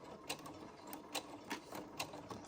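Sewing machine back stitching on a zipper pouch, a faint rapid mechanical chatter with regular light clicks, steady and quiet.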